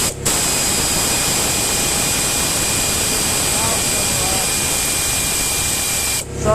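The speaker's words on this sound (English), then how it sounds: "Sorry for all the air compressor noise" Air compressor running in a workshop during a scooter power-up kit installation, a loud continuous broadband hiss and hum with steady tonal whine, cutting off abruptly at the end.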